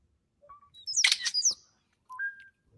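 European starling mimicking sounds: a few short whistled notes, then a dense burst of mechanical-sounding clicks and warbles, followed by another rising whistle, close and alone with no talk.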